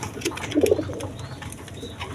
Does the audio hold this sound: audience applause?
no